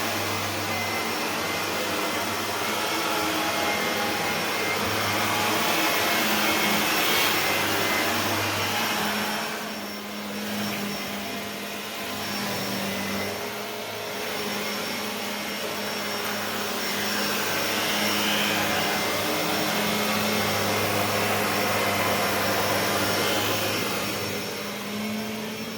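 A Shark Lift-Away ZU560 vacuum cleaner with self-cleaning brushroll runs at maximum suction, a loud continuous motor roar and airflow whoosh that swells and dips slightly as it is pushed around a room.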